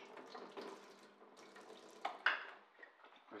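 Food being rinsed under a running kitchen tap, a soft close splashing of water with a few brief louder spatters partway through, quiet and without talk.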